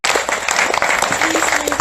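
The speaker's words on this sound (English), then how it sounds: "Give everybody a round of applause." Audience applause at a poetry benefit reading, a dense burst of many hands clapping close and loud throughout, with a few indistinct voices mixed in.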